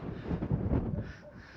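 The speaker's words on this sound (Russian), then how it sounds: "ветер начался" Gusty wind on a mountain clifftop in Crimea buffets the microphone in low rumbling bursts, rising and falling over a second or so, with no voices.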